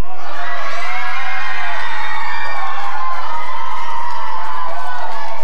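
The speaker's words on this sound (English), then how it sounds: "A big cheer for Canovee." Children and spectators cheering loudly for Canovee at a school football final between Coachford and Canovee, with sustained high-pitched shouts and whoops, very close and heavily distorted.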